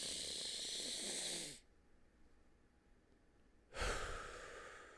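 Deep, slow breathing close to the mic: a long breathy exhale, a quiet pause, then a strong inhale, soft and alone.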